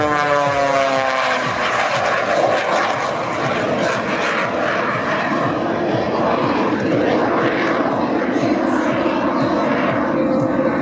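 An aerobatic biplane with an added CJ610 jet engine roars loudly and continuously overhead at the Jones Beach air show, a jet's rushing whine mixed with a propeller drone, rising and shifting as it passes.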